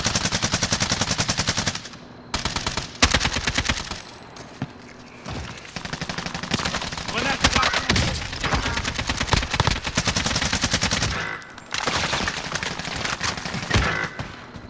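Enemies open fire in a video game, with dense bursts of automatic gunfire and rapid rattling volleys. Brief pauses break up the shooting, which is loud and continuous, with no speech.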